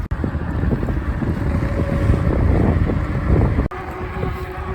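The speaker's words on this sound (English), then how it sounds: "that wind is pretty strong and cold" Strong, cold headwind roaring over the microphone while riding a fat tire e-bike, a loud steady rushing buffet with a brief dropout near the end before it resumes.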